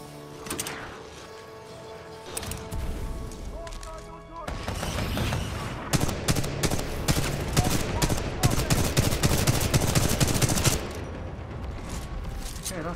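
Rapid rifle fire in the video game Titanfall 2, dense bursts of gunshots rattling close and loud, with heavier thuds and booms mixed in and a brief lull before the shooting intensifies.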